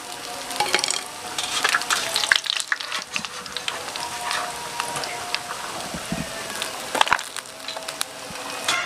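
Small wader fish fry in hot oil, a dense continuous crackle and sizzle with sharper pops and occasional clatters from stirring, steady and close throughout.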